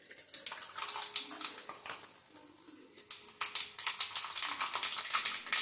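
Mustard seeds and urad dal sizzle and crackle in hot oil while making gooseberry pickle. Dense, close popping and hissing start gently, then grow louder and busier about halfway through.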